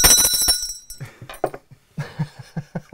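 A bright bell rings loudly on a quiz show at the start with a shimmering ring that fades, followed by a scatter of sharp clinking taps and light percussive hits.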